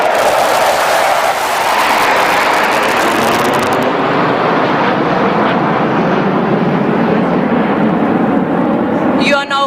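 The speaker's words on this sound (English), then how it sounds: "You are now about to witness a low-level aerobatic display by the Sukhoi 30 MKI" A Sukhoi 30 MKI jet roars past low over Marina Beach in Chennai during an Air Force Day flypast, a loud broadband rushing thunder filling the whole stretch and easing slightly after a few seconds.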